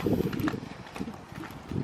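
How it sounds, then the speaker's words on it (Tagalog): Strong wind blows at Cedar Beach on Salt Spring Island, buffeting the microphone in loud, uneven gusts of low rumbling that swell and fade over a couple of seconds, with no talking. "Very windy."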